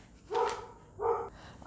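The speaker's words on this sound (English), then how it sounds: "I'm sorry for the dog barking outside." A dog barks outside, two short, fairly loud barks about half a second apart, standing alone without talk.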